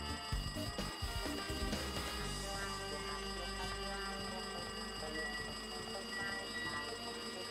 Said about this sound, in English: Looks like that phone is ringing.